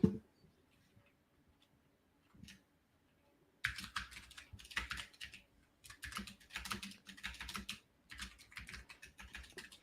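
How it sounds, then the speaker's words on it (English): Keystrokes on a mechanical keyboard clatter in quick, uneven bursts after a few quiet seconds, faint and close with short pauses between runs of typing. "I'm literally muting my mic as I'm typing. Yeah, it's a mechanical keyboard."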